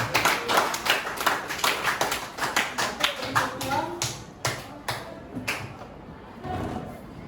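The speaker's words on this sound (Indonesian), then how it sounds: "berikan tepuk tangan" A classroom of students claps in rhythmic bursts, a close, loud patter of hands that gradually thins out toward the end, with some voices mixed in.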